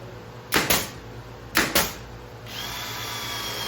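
Power drill driving screws into a wooden bookshelf: two short pairs of loud whirring bursts, then a steadier higher whine near the end.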